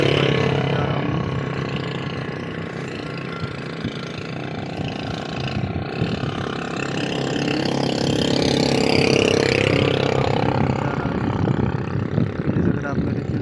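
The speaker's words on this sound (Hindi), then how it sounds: "आज मैं अपने बाइक से जा रहा हूँ।" A motorbike engine hums steadily while riding along a village road through fields, with constant wind rush over the microphone and someone talking over the ride.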